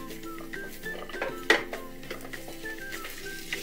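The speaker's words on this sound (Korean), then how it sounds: "바로 채소, 야채, 버섯을 같이 넣겠습니다. 그리고 계속 같이 볶아줍니다" Vegetables and mushrooms stir-fried together in a pan, with soft scraping and stirring clatter, a light sizzle and one sharper utensil knock against the pan partway through.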